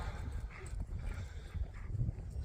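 Dogs play rough with each other outdoors beside a road, making a mix of close, scuffling, growly noises and whimpers over a continuous low background rumble.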